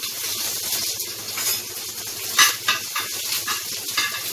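Ginger and garlic sizzle in hot oil with cumin seeds, a steady bright frying hiss with soft stirring scrapes and a sharper spatula clink near the middle.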